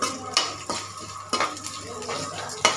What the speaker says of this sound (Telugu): ఇలా ఎల్లిపాయ కూడా, చిన్నులపాయ కూడా వేగాలి ఎర్రగా